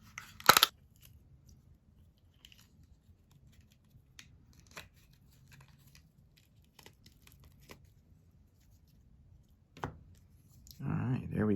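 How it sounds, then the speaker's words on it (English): A single sharp snip of scissors trimming silicone molds near the start, then a long near-quiet stretch with faint handling noises, and a rustling burst at the end. "I gotta find my scissors and trim these up"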